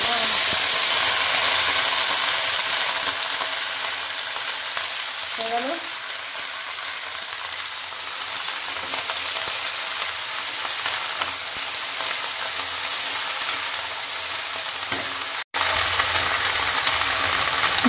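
Green chillies fry in a pan with a steady, loud sizzling hiss that runs unbroken throughout, with a brief stirring scrape partway in and a short cut-out near the end.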